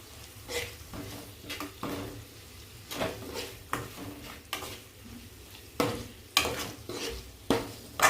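Ingredients for chicken curry frying in a pan, a soft sizzle under intermittent spoon stirs and clinks against the pot, fairly quiet and close.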